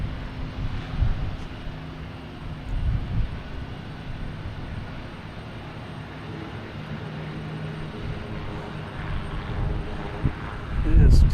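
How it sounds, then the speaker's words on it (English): A United Airlines Boeing 737 MAX 9 takes off at Boston Logan, its engines a steady mid-distance roar that swells and fades in waves before building louder at the end. "Our next takeoff is"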